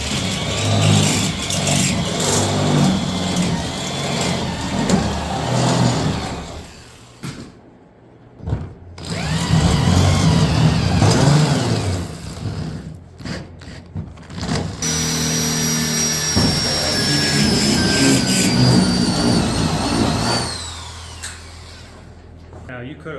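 A rotary cutting wheel on a Jeep Grand Wagoneer roof whines loudly in several bursts with brief pauses between them, and the pitch falls as the wheel loads up.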